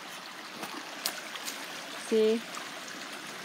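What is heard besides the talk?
small river flowing at a picnic area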